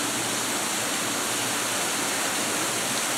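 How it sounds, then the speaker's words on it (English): A small waterfall at the Yankee Candle village pours in a steady, dense rushing hiss, close and constant throughout with no voices over it. "They got a waterfall over here."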